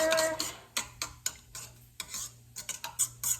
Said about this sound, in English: All right, give this a little bit of a stir.